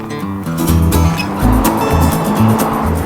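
A 2018 Ford F-150 pickup with the 3.0L Power Stroke diesel V6, FX4 and King Ranch package, cranks and fires up, then settles into a loud, close, throbbing idle with a steady engine drone.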